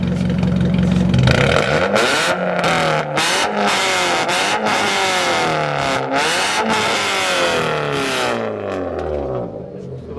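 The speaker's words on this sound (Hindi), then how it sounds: "जरा इसका एग्जॉस्ट साउंड सुना दो लोगों को।" A customized Swift-type car with a decat exhaust and cannon filter revs repeatedly, loud and close, the engine note rising and falling in sharp surges with a crackling rasp, while people talk over it.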